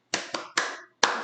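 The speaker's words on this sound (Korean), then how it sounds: "347박수로" Close, crisp hand claps in an uneven patterned rhythm, four sharp claps in quick succession with short gaps, heard alone in a quiet room.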